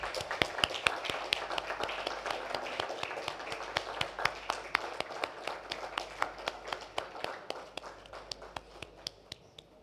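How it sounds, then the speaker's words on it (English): Applause from a conference audience at an EV safety event, sparse, crisp individual claps forming an uneven patter that gradually thins out and fades toward the end. "please give a huge round of applause"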